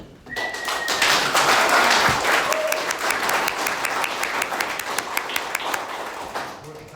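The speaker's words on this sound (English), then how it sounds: "We're clapping and we don't even know what he did." At a town commission meeting, the audience claps to recognize a police officer called forward, a loud burst of many hands that swells quickly, holds, then thins into scattered sharper claps near the end.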